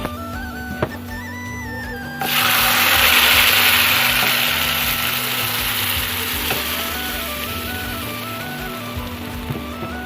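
Lentils (dal) for a sour dal with spinach hit hot oil that has been browned, setting off a sudden loud, broad sizzle that stays steady and close as the frying continues, with occasional faint stirring clatter.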